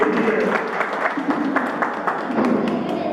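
Applause from an audience at a welfare society event marking a martyr's birth anniversary, a steady, fairly loud wash of clapping with sharper individual claps running throughout, and some voices mixed in.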